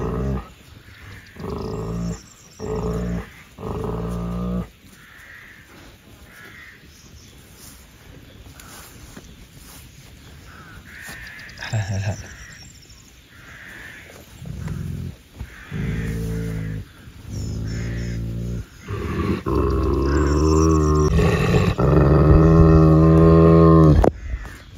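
Kangal dogs growl and snarl in short, close bursts, the rough rumbling growls becoming louder and more continuous toward the end, with people talking in between.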